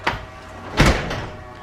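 Passenger-side door of a Tesla being worked, two solid thunks about three-quarters of a second apart, the second louder, followed by a softer rattle, close and with no talking.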